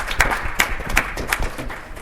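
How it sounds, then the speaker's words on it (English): Sparse, quiet applause from a conference audience thanking the panelists, a handful of separate claps that thin out quickly. "let's give a round of applause to our panelists"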